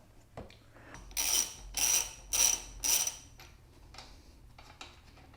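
Ratchet wrench loosening a bolt on a Honda Grom's shifter, four quick bursts of clicking close by with light metallic taps in between, quiet surroundings.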